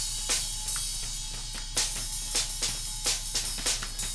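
Music processed through the Airwindows SlewOnly plugin, which passes only the change between successive samples, leaving a thin, hissy, treble-heavy signal with faint rhythmic transient clicks and no talk.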